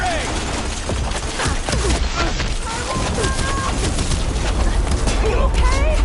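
Continuous video game gunfire with sharp shots layered over a dense battle din, loud and steady throughout with no pauses.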